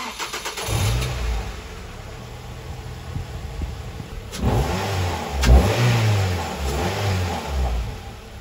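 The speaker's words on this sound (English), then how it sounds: "I'm just gonna start the car up and just check it's running okay" A Ford Fiesta ST150 engine cranks and catches, then runs with revs rising and falling in a couple of blips before settling, loud and close with no talk.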